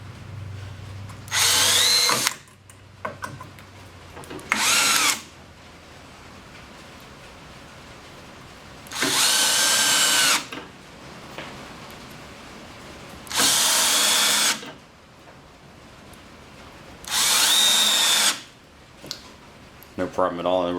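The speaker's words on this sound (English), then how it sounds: "we're going to start with the 6 inch and 5/8 coarse drywall screws." A Hart 20V drill drives six-inch coarse drywall screws into wood in five loud whirring bursts of a few seconds each, close up, separated by pauses where someone talks.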